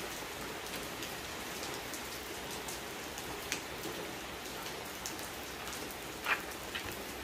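Steady downpour of heavy rain over a rambutan orchard in Nghĩa Đàn, Nghệ An, an unbroken near hiss with occasional louder drip hits punctuating it.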